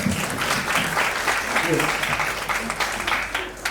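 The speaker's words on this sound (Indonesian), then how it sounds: "Tepuk tangan untuk kita semua." Applause from the audience at a high school theatre show, a steady patter of many hands that lasts throughout, with voices and a faint low hum underneath.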